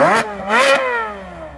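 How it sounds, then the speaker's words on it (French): Ferrari sports car at a luxury and sports car gathering, its exhaust revved hard in two loud, close blips, each rising sharply in pitch and then sliding back down to a lower engine note. No voices. "on a toutes les Ferrari, dont celle qu'on adore, avec les échappements qui chantent bien"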